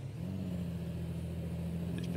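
Steady low drone of a Volvo truck engine revving in American Truck Simulator, the pitch rising briefly at the start and then holding loud and constant.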